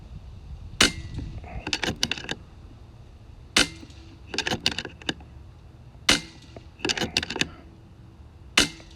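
Air gun shots fired one at a time with pauses between them. Each begins with a sharp, fairly loud crack and is followed by quick clattering clicks, likely the action being cycled, repeating in about four groups over nine seconds.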